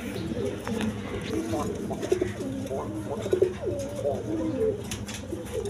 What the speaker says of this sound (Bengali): দর্শক এখানে এক পেয়ার আপনার রেসার কবুতর আছে